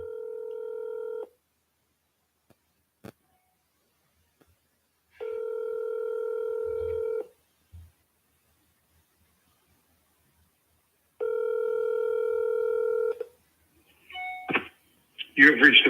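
A telephone rings out on a cold call: three long, evenly spaced ringback tones with silent gaps between, then a short burst of voice and clatter as the line connects.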